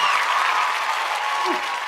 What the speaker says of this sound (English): Ooh, you hear them claps.